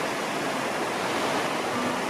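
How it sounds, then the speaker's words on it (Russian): A river plunging as a waterfall into a gorge in the Catskills, a steady broadband rush of falling water, constant and fairly distant, with no voices. "эта река падает водопадом в пропасть"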